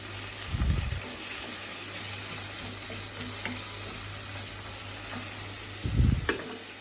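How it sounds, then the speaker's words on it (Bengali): Green chilies and onion frying in hot oil for a shol (snakehead) fish dish, a steady sizzle running throughout with two heavier low bursts of stirring or tossing near the start and end. "কাঁচামরিচ পেঁয়াজটা ভালোভাবে তেলে বুনে নিতে হবে"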